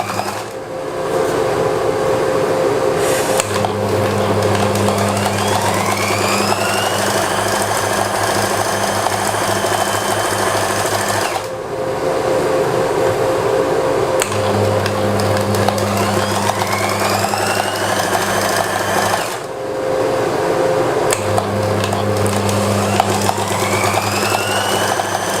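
An electric sewing machine stitching a kameez sleeve closed, running in long steady whirring bursts of about eight seconds each, separated by brief pauses, loud and close.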